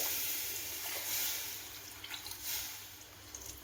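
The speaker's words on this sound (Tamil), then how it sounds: "தண்ணி வந்து சப்ஜிலாம் மூங்குற வரைக்கும் நம்ம தண்ணி விடணும்." Water is poured into potato and green chana curry in a pan, a quiet trickling, splashing wash over a faint steady hiss, close by with no talk.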